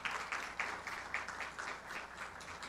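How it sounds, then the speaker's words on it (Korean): Audience applause at a church's 60th anniversary ceremony, a quiet, distant patter of clapping with rhythmic surges. "참석하신 모든 분들을 위해서 감사의 박수를 부탁드리겠습니다."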